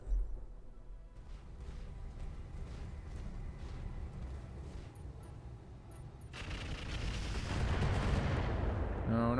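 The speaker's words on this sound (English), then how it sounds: "I think I'm just fine standing here shooting that with more debuff missiles" Missile fire from a BattleTech mech game with the RogueTech mod thuds and rumbles in a steady barrage, swelling into a louder, denser roar toward the end.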